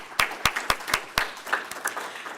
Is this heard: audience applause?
yes